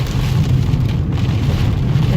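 Heavy rain from a storm pounds on a car in a dense, loud, continuous roar of drops close overhead, with no talk.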